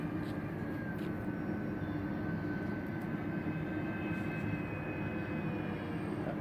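An RC model Airbus A320 jet makes a low pass, its steady engine whine and rushing hum holding at constant strength throughout, fairly loud with no voices.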